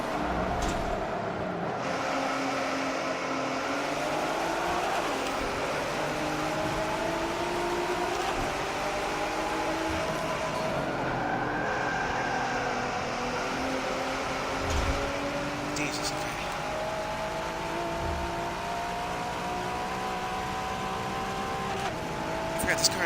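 A race car engine in the Forza Motorsport game, a seven-gear exotic GT car, drones and rises in pitch through repeated gear changes, loud and continuous for the whole stretch, with a player's voice talking over it.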